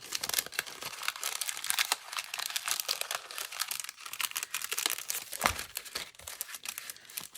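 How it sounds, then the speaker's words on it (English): Crinkling plastic packaging around a saree, a busy close rustle of crackling and crumpling that continues throughout with no talking. "Sorry about the rustling."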